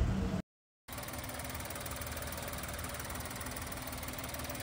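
A Maruti Wagon R petrol engine, freshly fitted with new spark plugs and an air filter, runs at a steady low idle after a brief silence, with an even continuous hum and no voices.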